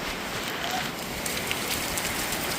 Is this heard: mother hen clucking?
no